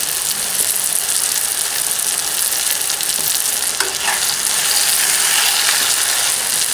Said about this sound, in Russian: Когда лук немножко спассеровался, добавляем морковь. Зажаривать не нужно. Пассируем до прозрачности.